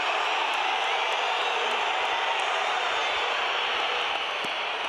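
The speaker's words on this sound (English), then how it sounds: "Crowd unhappy." Unhappy rugby stadium crowd at an All Blacks versus Argentina match, a dense, steady roar of many voices sustained throughout with no break.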